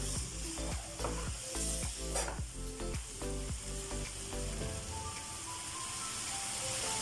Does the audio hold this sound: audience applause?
no